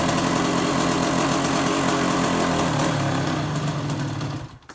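A KTM 125 SX motocross bike, fixed after a seized engine and started without the choke, runs loud and close with a steady buzzing engine note, then dies away at the end.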